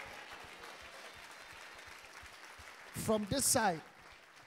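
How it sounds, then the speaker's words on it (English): A church congregation clapping during a sermon, a thin steady patter of many hands under the room, then a voice calls out briefly over it. "All those that are clapping, receive that testimony for yourself"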